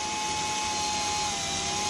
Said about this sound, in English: when you're drilling through steel like this, slow speed, hard feed.